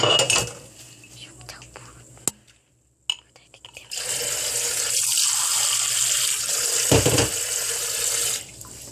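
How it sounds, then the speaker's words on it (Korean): Water runs from a tap into a cup after a few light clinks of kitchenware and a short pause, then a steady close splashing stream that stops abruptly near the end. "일단 물을 받아줍니다."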